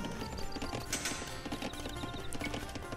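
Dense clip-clopping of many horse hooves in Age of Empires 2, with occasional whinnies over a busy, steady bed of battle game sounds.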